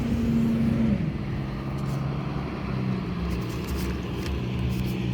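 A truck rumbles steadily along a nearby road beside a garden, a low engine drone with a brief higher tone at the start, continuous throughout with no talking.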